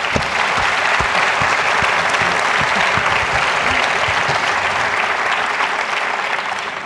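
Dense, sustained applause from a conference audience thanking a panel, loud and steady throughout, tapering slightly at the end.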